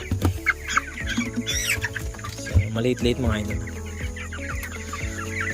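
Chickens cluck and chatter nearby while someone talks over them, with a steady hum running underneath.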